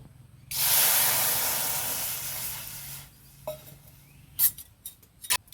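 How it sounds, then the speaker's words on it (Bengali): Water is poured into a hot karahi on a lit stove, setting off a loud steam hiss that lasts about two and a half seconds and fades, followed by a few light metallic clinks. "কড়াটা চাপিয়ে দেবো কড়াতে দিয়ে দেবো জল"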